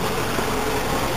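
The engine of a 1962 Hydrodyne boat runs in a brief, loud, close rumble with a rough, steady throb and no voices over it.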